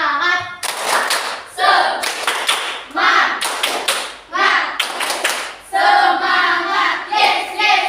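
Schoolchildren in a classroom clap a rhythmic cheer in quick bursts of loud, close claps, chanting along between the patterns.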